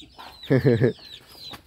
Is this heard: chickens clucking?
yes